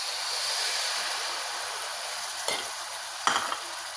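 Soaked tamarind is stirred into fried onions for Andhra-style fish curry, making a steady close sizzling hiss with two brief scraping clinks of a spoon against the pan.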